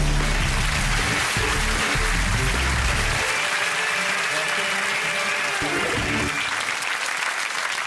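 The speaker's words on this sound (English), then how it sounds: "A round of applause, please, for our mystery guest." A studio audience at a quiz show gives loud, sustained applause for a mystery guest, a thick wall of clapping that carries on at full strength throughout.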